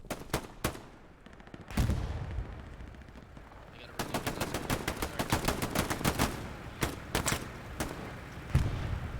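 Hell Let Loose match gunfire: sharp rifle shots and rapid machine-gun bursts crack in clusters, some near and loud, others more distant, with a short lull before a sustained stretch of firing.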